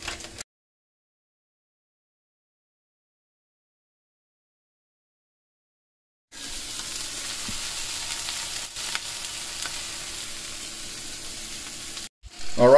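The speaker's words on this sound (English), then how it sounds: "we're gonna go ahead and cook up some pork sausage" Costco pork sausage fries in a Blue Diamond frypan with a steady close sizzle that starts abruptly after a stretch of silence, holds evenly for several seconds, then drops out briefly and returns.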